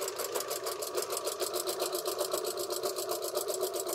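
A sewing machine doing a straight stitch on a baby blanket hums with a fast, even pulsing rhythm, running continuously, close and moderately loud, with no voices.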